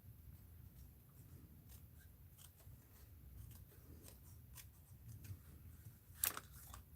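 Scissors snip along a paper border in an art journal, a few soft cuts over a low room hum, with one sharper, louder snip near the end.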